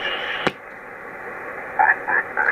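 Band-limited shortwave hiss through a 3 kHz receiver filter on the 40-meter band, with a sharp click, then warbling interfering tones bleeding through in short bursts.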